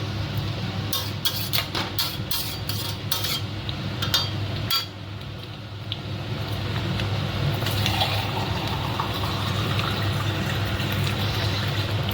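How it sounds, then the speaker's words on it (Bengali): Water poured into a cooking mixture in a home kitchen and stirred, a steady watery wash with clinks of utensil against the pot early on, continuing close and even with no talk. "এবার পরিমাণ মতো জল দিয়ে জিনিসটাকে ভালো করে নেড়ে"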